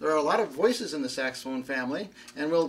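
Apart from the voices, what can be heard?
None of the usual background noises is heard.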